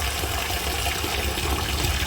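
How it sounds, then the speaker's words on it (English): Hot water running to wash rice, a steady gushing stream of tap water poured continuously, close and fairly loud with no speech. "Now I'll be using hot water to wash the rice."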